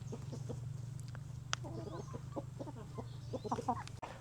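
Free-range village chickens clucking in bursts of short repeated calls, close by, over a steady low mechanical hum, with a sharp click or two.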